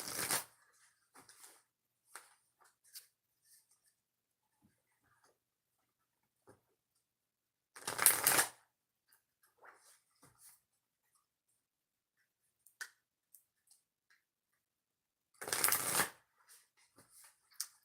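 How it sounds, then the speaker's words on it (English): Oracle cards are shuffled in three short bursts of close, crisp riffling, each lasting about a second. Quiet spells and small taps and clicks fill the gaps between them. "Three shuffles"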